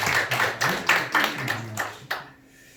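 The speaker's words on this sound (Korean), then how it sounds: "박수 한번 쳐주시기 바랍니다" A church congregation claps together in a quick, even rhythm, about a dozen beats in a row before the clapping stops abruptly and the room goes quiet.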